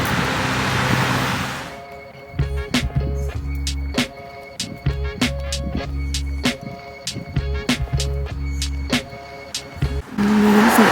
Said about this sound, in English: Busy road again.